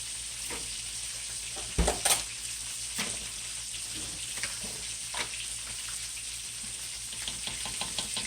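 Country Crock spread melting and sizzling in a pan of cabbage fried rice, a continuous close frying hiss broken by a few louder scraping stirs, with no talk.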